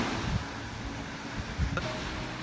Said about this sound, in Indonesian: Kita berada di Pantai Uinian